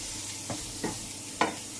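Carbonara sauce being stirred in a pan, three brief scraping strokes spaced apart over a steady background hiss, close and fairly quiet.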